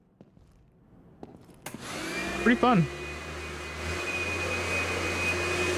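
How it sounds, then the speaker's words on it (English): A vacuum cleaner in a gym renovation video game starts up after a few clicks and settles into a steady, loud, droning whine. Someone speaks briefly over it. "About as annoying as a real vacuum."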